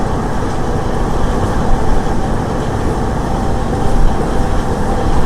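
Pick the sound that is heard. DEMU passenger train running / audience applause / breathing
DEMU passenger train running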